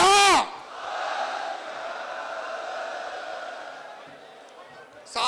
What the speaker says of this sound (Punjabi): ਦੋਨੇ ਹੱਥ ਖੜੇ ਕਰਕੇ ਆਪਾਂ ਜਕਾਰੇ ਦਾ ਜਵਾਬ ਦੇਣਾ ਹੈ